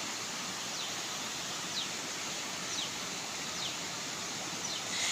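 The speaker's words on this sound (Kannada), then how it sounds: "ಯಾವ ಬೇಸಿಗೆಲೆಲ್ಲ ಕಂಟಿನ್ಯೂಸ್ ಆಗಿ ನೀರು ಹಿಂಗೆ ಹರಿತಿರ್ತದೆ" A stream running continuously through the dry season, heard as a steady, even wash of flowing water with a few faint chirps above it.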